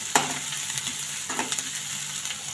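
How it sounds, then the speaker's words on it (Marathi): Chopped onion frying in oil in a pan until reddish-brown, a steady close sizzle broken by a couple of sharp stirring scrapes. "त्याला मिक्स करून घेऊ छान असा कांदा लाल तळू द्यायचा"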